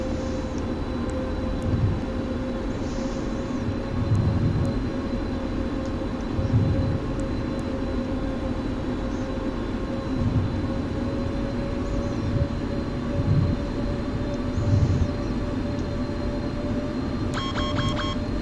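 An airliner rolls for takeoff in a flight simulator game, a steady engine whine with a sustained tone and low rumble throughout, punctuated by periodic soft thumps as the wheels cross runway joints.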